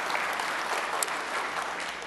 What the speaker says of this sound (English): Show of applause.